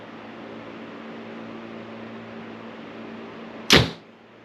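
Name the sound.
434 grain arrow shot from Hoyt bow through paper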